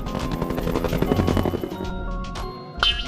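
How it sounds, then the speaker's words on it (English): Helicopter sound effect for a children's alphabet lesson: a loud, pulsing rotor chop that fades out after about two seconds, followed by a few faint brief sounds. "H is for helicopter."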